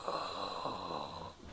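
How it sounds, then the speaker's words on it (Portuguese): A sleeping baby snoring softly, one faint raspy breath drawn out and then fading near the end, close and quiet with no talking. "Tá roncando."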